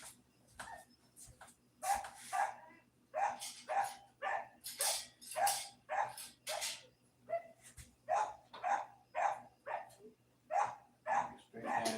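Dogs outside bark again and again in a steady run of loud, evenly spaced woofs with occasional yips, filling the whole stretch over a faint constant hum.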